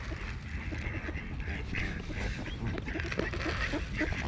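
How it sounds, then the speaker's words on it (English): A flock of geese and ducks gathered around scattered seed and lettuce honks and quacks continuously and close by, a busy, overlapping chorus of calls with no clear gaps. "Geese want some."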